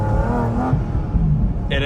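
A Porsche GT4 RS fitted with a GT3 engine accelerating, its engine note rising and rumbling steadily under a person talking.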